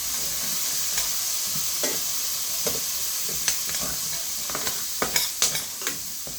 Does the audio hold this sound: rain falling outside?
no